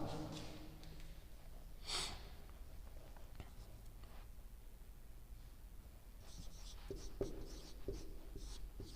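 Handwriting on paper, heard as faint scratching strokes and soft taps, with breathing and quiet whispered speech close by in a hushed room.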